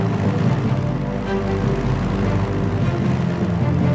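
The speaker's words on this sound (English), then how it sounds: "Tactical bomber, armed and ready" A tactical bomber in Strategic Mind: Blitzkrieg, set in the Spanish Civil War, flies overhead. Its piston engine drones loud and steady, a continuous rumbling hum with no pauses, and no one talks over it.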